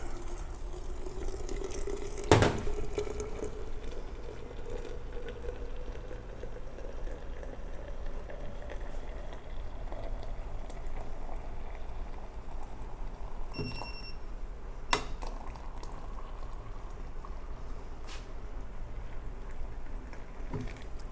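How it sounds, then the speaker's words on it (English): Steady rushing hiss of boiling water pouring into a teapot over tea leaves, with a rising fill tone, a couple of sharp clinks along the way. "we're gonna add that boiling water again"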